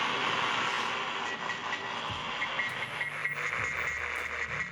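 A cheap AM radio picks up a printer's vibrating data signal, a crackly stream of static broken by faint buzzy pulses. It is steady and moderately loud, with no voices.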